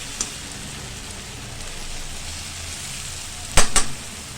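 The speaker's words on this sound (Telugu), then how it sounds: "ఇప్పుడు కొంచెం వేగనిద్దాం, జరసేపు వేగని." Onions and green chillies fry in oil with salt, giving a steady soft hiss, then two sharp metallic clanks near the end.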